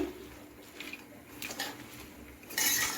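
Salt being stirred into cabbage pakora batter in a bowl; faint scattered clinks and scrapes of a utensil against the bowl, with a brief louder clatter near the end.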